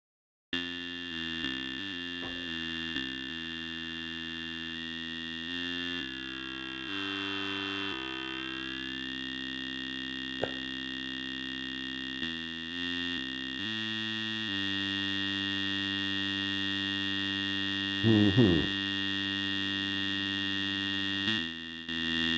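Sustained electronic oscillator tones from an Audible Instruments Macro Oscillator module in VCV Rack that hold steady, shift pitch in steps, and occasionally sweep or wobble, with a short chirp near the end.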